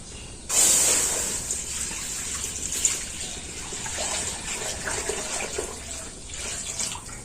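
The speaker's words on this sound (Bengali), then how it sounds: "এবার আমি এই দুধটা কড়ার মধ্যে দিয়ে দিচ্ছি" Milk poured into a wok (kadai) for making chhena: a sudden close, splashy gush that settles into a continuous steady liquid stream and trickle, with no talking.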